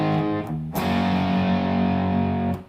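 A Les Paul electric guitar plays a heavily distorted G barre chord. Two quick strums and a scratch lead into a sustained, loud, buzzing chord that is cut off near the end.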